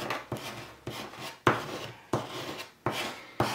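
Transfer paper rubbed firmly onto a violet candle, giving repeated scraping, rasping strokes in an irregular rhythm, each opening with a sharper attack, close and fairly quiet with no voices.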